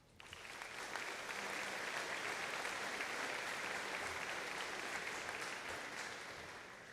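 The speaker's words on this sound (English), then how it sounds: "Let's give him a round of applause." A graduation ceremony audience claps steadily for about seven seconds, swelling quickly at the start and tapering slightly at the end, with no talking over it.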